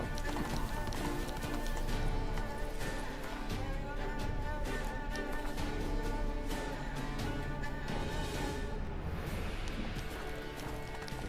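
Hooves of Roach, a horse in The Witcher 3: Blood and Wine, clip-clop steadily at a run over a dense, loud bed of game music and ambience, with faint voices mixed in.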